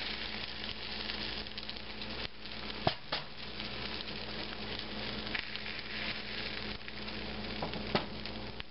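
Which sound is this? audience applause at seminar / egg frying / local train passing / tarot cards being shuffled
egg frying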